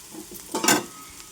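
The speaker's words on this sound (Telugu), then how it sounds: "ఈ స్పూను మసాలా పౌడర్ కూడా చక్కగా అంతా కలిసేలాగా ఇలా కలిపేసుకోవాలి" A spoon stirs masala powder through a sweet corn and carrot curry in a pan, giving a short scraping swirl with a faint sizzle beneath, close and brief.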